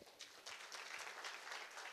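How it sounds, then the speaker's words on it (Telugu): A gathered crowd at a motivational talk claps for the Christians among them, a brief, fairly faint burst of many hands starting up and continuing evenly, with no speech. "క్లాప్స్ అండి ఒకసారి క్రిస్టియన్స్కి"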